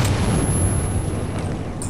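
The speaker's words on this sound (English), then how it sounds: "Grenade!" A grenade goes off in the video game Metro 2033, a heavy, booming blast with a dense, rumbling low-end tail that holds steady for nearly two seconds, loud and close, with no talk over it.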